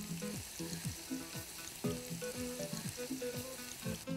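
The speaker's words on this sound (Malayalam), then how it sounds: "ഇച്ചിരി എണ്ണ ഒഴിച്ചേച്ച് ഇതിനകത്തോട്ട് ഫസ്റ്റ് നമ്മുടെ ഉള്ളി അങ്ങിടുക" Onions fry in oil for chicken tikka pulao, a close, steady sizzle broken by repeated scraping and stirring strokes, with no voices.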